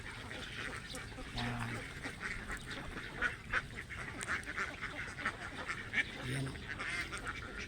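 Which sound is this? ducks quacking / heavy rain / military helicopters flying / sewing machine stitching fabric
ducks quacking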